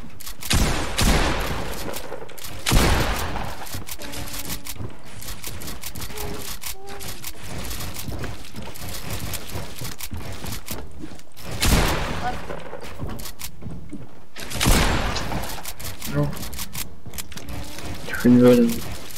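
Fortnite gunfire crackles in repeated loud bursts and single shots throughout a match, spaced every few seconds over a steady game soundscape, with a player talking now and then.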